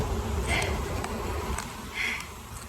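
Honey bees buzzing close by at an open hive during an inspection, a soft droning hum with a few louder passes as individual bees fly near.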